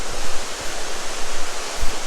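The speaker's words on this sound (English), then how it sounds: "We're seeing now the waterfall," Ruby Falls, a tall underground cave waterfall, pours with a steady broadband hiss and roar that fills the space evenly, constant and fairly loud with no voices.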